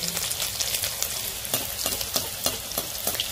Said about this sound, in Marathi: आता हे चांगले खमंग चांगले तळून घ्यायचे